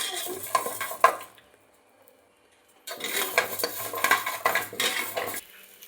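Sago roasting in ghee in a pan: a spoon scrapes and clatters against metal in bursts, with a soft sizzle beneath, a short quiet gap in the middle, then more brisk stirring.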